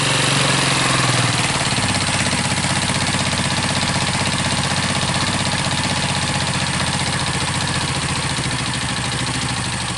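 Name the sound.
Yamaha Lexi scooter engine idling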